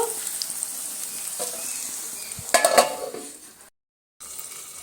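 Chopped garlic and spices sizzle steadily in a hot pan for cabbage bhaji, with a brief burst of louder crackling and stirring before a short silence, then the frying resumes.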